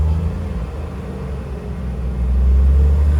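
A 1986 Jeep CJ7 engine rumbles low and steady while driving, rising slightly in loudness toward the end.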